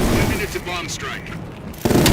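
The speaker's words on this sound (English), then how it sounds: "Bomb strike." Bomb strike explosions in Call of Duty: Black Ops Cold War, a loud burst of deep booms at the start and again at the end, with a voice speaking in the quieter gap between them.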